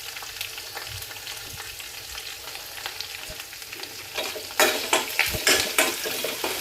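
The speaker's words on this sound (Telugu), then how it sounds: "ఇవి బాగా దూరగా వేయించాలి, అప్పుడే చట్నీ బాగుంటుంది." Onions and curry leaves fry for a chutney with a steady sizzle and crackle, stirring scrapes running throughout, and the sound grows louder and more spattery near the end.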